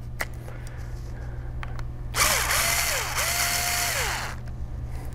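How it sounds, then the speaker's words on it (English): A cordless screwdriver whirs in a loud burst while driving screws during an ASUS X750JA 17.3-inch laptop disassembly, its pitch rising and falling twice as it runs. A steady hum sits underneath. "it's a cordless screwdriver, so don't yell at me in the comments for using a drill"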